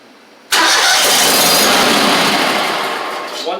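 A Gravely 260Z mower engine that only runs in the start position cranks abruptly and roars loudly for about three seconds before fading as it dies, heard up close with no voices.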